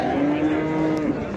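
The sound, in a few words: calves mooing at livestock market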